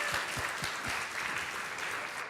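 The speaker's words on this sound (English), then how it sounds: "round of applause for Gary." Audience applause following a talk on the 1970s Civella-Spero mob war, a steady wash of clapping from a seated crowd, fairly soft and even, with no one speaking.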